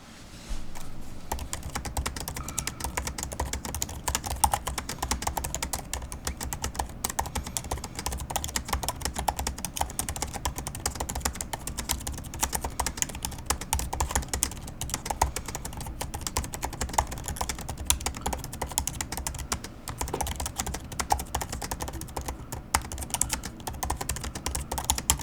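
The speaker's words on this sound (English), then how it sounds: "here's a short little sound test of the keyboard." Steady, continuous typing on a MacBook Pro M1 Max keyboard, with close, crisp key clicks in an even rhythm for about twenty-five seconds and no talking.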